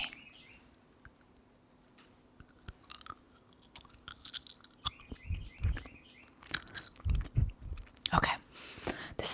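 Close chewing of a soft vanilla chew candy, with sticky mouth clicks and smacks that grow busier toward the end, under and between quiet talking.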